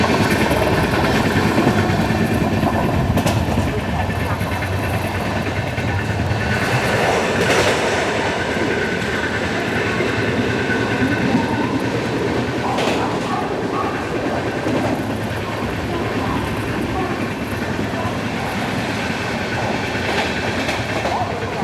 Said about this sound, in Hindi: अभी हमारी ट्रेन स्किप करने जा रही है बोईसर को।